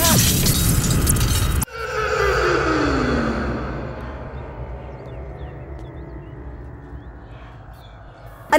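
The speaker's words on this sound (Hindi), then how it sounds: "अरे घर के अंदर पटाखा किसने फोड़ा?" A firecracker bursts indoors in a house, a sharp loud crack that cuts off a dense noisy stretch, followed by a long decaying rumble and hiss that fades slowly over several seconds.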